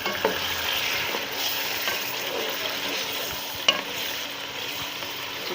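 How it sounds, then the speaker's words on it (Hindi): Chicken frying in hot oil for a spicy chicken qorma, a steady close sizzle with crackling bursts and a sharp pop near the end, no voices. "अब मैं ये चिकन डालूँगी उसी ऑयल में"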